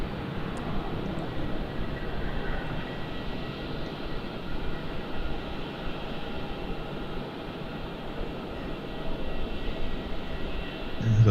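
A passenger aircraft, flight 1292 inbound from Cairns at Melbourne Airport, gives a steady, loud, broad engine roar and rushing hiss that holds throughout and swells slightly toward the end, with no talk over it.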